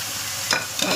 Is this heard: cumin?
yes